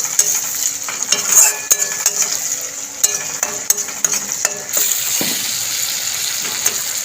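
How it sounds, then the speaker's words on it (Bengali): Tomatoes sizzle and fry in a pan for an egg curry, a steady crackle broken by scrapes and clinks of a utensil stirring. "টমেটোটাকে একটুখানি হালকা করে ভেজে নেব যাতে কাঁচা গন্ধটা চলে যায়"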